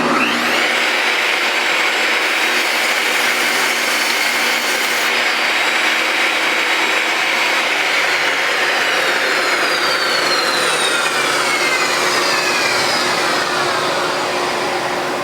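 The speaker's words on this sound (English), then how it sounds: "Now I want to turn the board 90 degrees and just trim off this next edge here." Table saw trimming the edge of a wooden board, a loud steady whine with a shift in pitch about halfway through the cut, close and continuous without speech.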